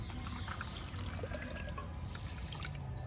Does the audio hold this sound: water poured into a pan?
yes